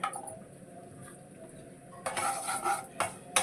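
Dry coconut frying in a spoonful of oil while stirred in a pot, with a faint background sizzle and a few sharp metal spoon scrapes and clinks against the pan toward the end.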